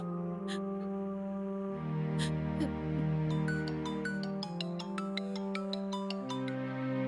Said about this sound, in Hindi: माँ सुनो, विश्वा भैया को कॉल लगाओ ना।